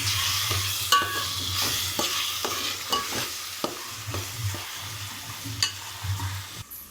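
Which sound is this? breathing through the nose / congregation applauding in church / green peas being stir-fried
green peas being stir-fried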